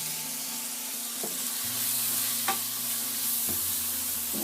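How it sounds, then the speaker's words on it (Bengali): A spatula stirs cabbage with tomato and turmeric in a pan over a low, steady sizzle, with a few distinct scrapes against the pan and a faint hum underneath. "টমেটোটা দেওয়ার পর নেড়ে নিচ্ছি।"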